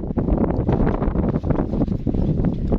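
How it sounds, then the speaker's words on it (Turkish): Gusty wind buffets the microphone at a lakeside campsite during a trout fishing trip, a loud continuous rumbling roar with irregular surges and no voices. "Hava rüzgarlı."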